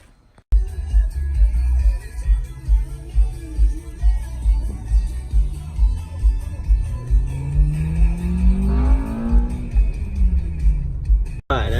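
A car pulls away and accelerates on the road, with the engine rising through the gears in repeated rhythmic surges, then sweeping up in pitch toward the end before the sound cuts off abruptly.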